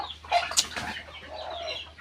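Chickens clucking inside a hen house, a few short clucks and calls close by over a steady low hum, with some rustling of birds scattering feed.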